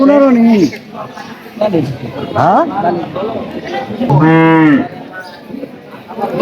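An Australian bull at a busy cattle market before Eid al-Adha, with several loud, close, drawn-out moos and bellows and other livestock calls among people talking nearby.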